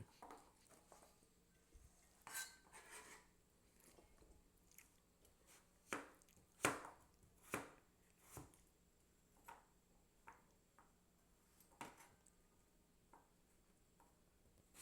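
Bottle gourd being cut with a knife in a home kitchen, several sharp separate chopping knocks spread unevenly through quiet surroundings, with faint clatter between them.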